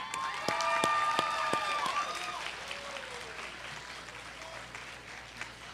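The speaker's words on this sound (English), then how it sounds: "Let's give your families and supporters one more round of applause." Audience applause honoring graduates' families and supporters at a spring commencement ceremony, a loud sustained clatter of many hands that gradually thins and fades over several seconds, with a faint voice and cheers mixed in.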